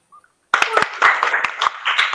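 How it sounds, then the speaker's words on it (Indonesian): Applause and clapping in a classroom group-guidance session, a burst of claps starting sharply after a faint sound and continuing steadily at moderate loudness for under two seconds. "Tepuk tangan buat Mbak Yariha"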